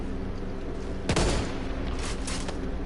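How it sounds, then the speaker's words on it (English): A single heavy Barrett .50 cal rifle shot booms in a zombie video game, a sharp blast with a short rumbling tail over steady game ambience, followed by fainter mechanical clatter. "Barrett 50 cal. This is going to be a little bit of a weird gun to use on a zombie game."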